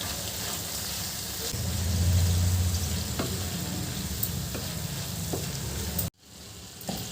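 Brinjal curry being stirred in a pan as turmeric is mixed in, giving a steady scraping, bubbling cooking noise that swells briefly before a short cut, with no talking.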